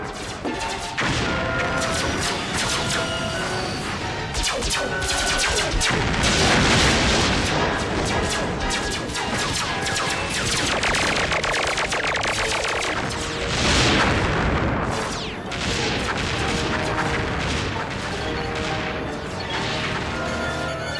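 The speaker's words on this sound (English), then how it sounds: "Longfellow, lay down covering fire on the crater rim. Get the fusion mortars up here, now!" Covering gunfire and fusion mortar fire boom and crash through an animated sci-fi battle on a crater rim, a dense, continuous barrage of explosions and shots with rapid impacts layered over rumbling blasts.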